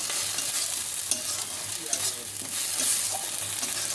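Ginger garlic paste sautéed in a pan over a medium flame for potol chingri, a dense continuous sizzle with spatula stirring, close and fairly loud, with no voices.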